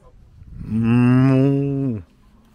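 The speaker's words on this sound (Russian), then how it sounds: "коровки." A single long, loud cow moo in the Baden-Württemberg countryside, Germany, rising and holding steady for over a second before cutting off, with quiet background before and after.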